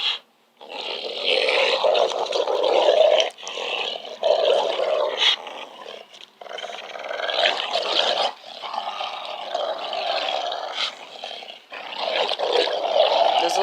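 A dog growls and snarls almost continuously at close range, a rough rumbling broken by short pauses, while playing a tug-of-war style match.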